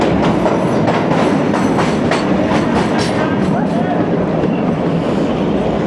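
The Kalka to Shimla toy train running through green hills, a loud steady rumble and rattle of carriages with rhythmic wheel clatter on the rails, close and continuous throughout.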